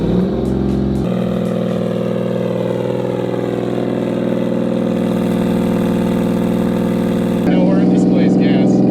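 EG33-swapped Subaru WRX STI on a cold start, the flat-six catching and settling into a loud, steady, high idle with a rich harmonic drone, close by, flaring briefly at the end.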